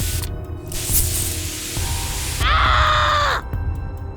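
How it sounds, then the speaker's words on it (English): A hissing spray bursts out in a steady rush lasting about a second, loud and close, followed by a sharp, strained tone. "took out the pepper spray, and sprayed it"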